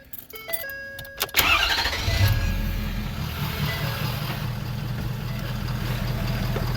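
Ford 6.7 Powerstroke diesel pickup engine, fresh from exhaust manifold and turbo replacement, catching after a brief crank and settling into a steady, close idle with a continuous low rumble.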